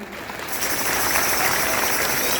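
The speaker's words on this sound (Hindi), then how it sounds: "एक बार जोरदार तालियां" An audience applauds at a bhajan devotional music program in Lucknow: dense, steady clapping that swells after a brief start and continues loudly and evenly throughout.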